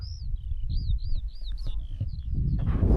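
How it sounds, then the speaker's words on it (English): Birds chirp in short, high repeated calls over a low, rumbling outdoor wind noise on a fell summit in the Lake District, moderately close and fairly clear. "just lying here listening to the birds chirping"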